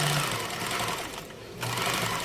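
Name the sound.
Brother Select-EX sewing machine stitching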